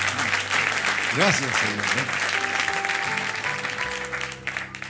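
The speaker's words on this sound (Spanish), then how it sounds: "Así que un aplauso para los papás. ¡Aplaudamos!" Church congregation clapping for the fathers at a Sunday service, a brisk burst of applause under a loud amplified voice, with a sung or sustained tone rising and falling before the clapping fades.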